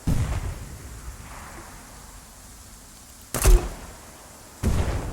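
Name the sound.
lightning bolt strike in distance, ARMA 3 video game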